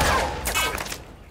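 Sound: pistol shots in a video game

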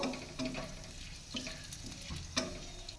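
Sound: whole spices (clove, cardamom, cinnamon) frying in hot oil

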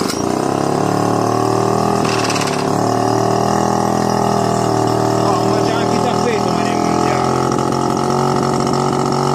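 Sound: two-stroke outboard boat engine running

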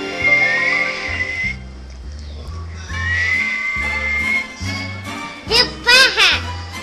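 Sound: person whistling

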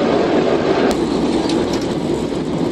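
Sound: moving train on rainy ride, Malaysia to Thailand

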